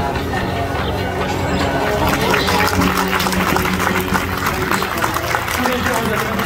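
Audience applause at a zoo animal show at Zoo de Beauval in France, a steady, moderately loud wash of clapping from a crowd that continues throughout.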